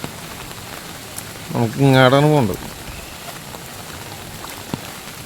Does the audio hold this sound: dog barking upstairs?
no